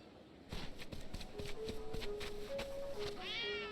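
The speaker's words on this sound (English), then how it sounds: "There's a kitty." A cat meowing in the video game Like a Dragon: Ishin, several short tonal mews in a row over soft footsteps and game ambience, fairly faint.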